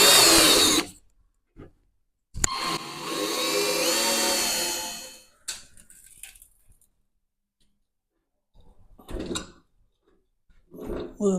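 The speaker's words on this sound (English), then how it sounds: "So just 1/4 inch drill." A power drill with a 1/4-inch bit bores through sheet metal for a toolbox in a few bursts, one long grinding whine with a rising pitch, separated by silences and small clicks.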